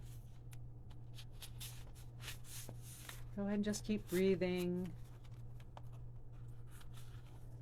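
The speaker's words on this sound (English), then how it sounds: "I'm just going to keep my eyes closed while I shuffle the cards a bit." Soft, irregular riffling and brushing of cards being shuffled close by, while a calm voice speaks briefly in the middle.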